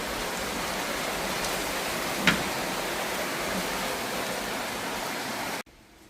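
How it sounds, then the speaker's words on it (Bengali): Steady rain falls outside on a cool evening, a dense even hiss that holds unchanged for several seconds before cutting out abruptly, with no voices over it. "এই যে বৃষ্টির আওয়াজ"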